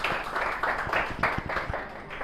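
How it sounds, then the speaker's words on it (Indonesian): A classroom of students claps for a presenting group, a quick rhythmic run of hand claps, fairly close and steady, that fades out after about two seconds with no one speaking. "tepuk tangan dulu untuk kelompok 3"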